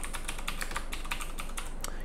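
Close, brisk clatter of keys on a computer keyboard, a rapid run of soft taps at an even pace over light background hum.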